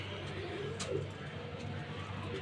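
Pigeons coo in low, soft repeated calls through a steady background hum, close by and moderately quiet, with no talk over them.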